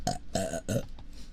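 A run of three close, throaty burps from a bloated person, each a short voiced gurgle separated by brief pauses, followed by faint soft noise.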